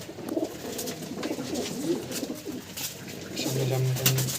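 Lal Jiriya pigeons coo in a loft, low soft repeated coos rising from a busy background of fluttering and movement, with a clearer pair of coos near the end.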